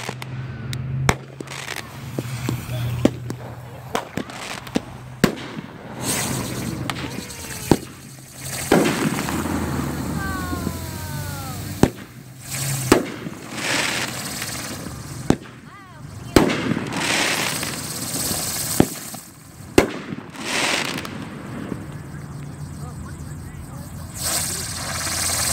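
A TNT Ferris wheel firework fountain spraying outdoors, a steady hissing roar with crackles, sharp pops and a few rising whistles over about half a minute, with people talking in the background.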